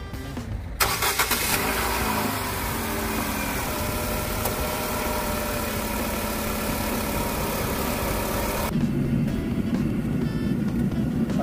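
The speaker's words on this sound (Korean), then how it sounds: "시동 한번 걸어보겠습니다" A Renault SM5 fitted with a freshly replaced battery cranks briefly and fires up, then settles into a steady, close mid-pitched idle that carries on alone before a final shift in tone.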